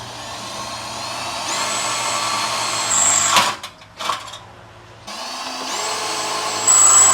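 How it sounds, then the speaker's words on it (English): A power drill bores into a metal bracket during a supercharger install on a Dodge Charger Pursuit, whining steadily and close up, with the pitch shifting and briefly cutting out midway before resuming loud. "This is the part where the drill tries to knock me out."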